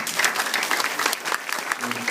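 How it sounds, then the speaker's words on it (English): A festival audience claps in a dense, sustained round of applause, close and lively throughout, with a faint voice briefly audible near the end. "Can you give them a big round of applause?"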